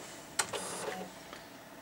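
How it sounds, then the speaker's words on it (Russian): An Epson R200 inkjet printer begins a head-cleaning cycle, giving a sharp click followed by soft mechanical whirring and faint shuffling, quiet and close by in a still room. "Видите, пошла прочистка."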